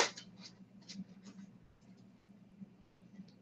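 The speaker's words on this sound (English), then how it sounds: "I'm going to shuffle the deck" A tarot card deck being shuffled by hand: a few quick papery riffles and flicks cluster near the start, then fade to softer, sparse card rustles over a low steady room hum.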